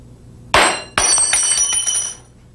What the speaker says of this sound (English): When a thermometer breaks, the glass and any liquid that spills out must be cleaned up